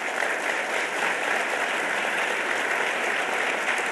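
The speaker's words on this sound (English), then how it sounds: "Keep the applause going." A crowd applauds a discussion panel at a televised forum on the 2010 census, dense sustained clapping filling the room evenly at moderate volume with no break and no talking.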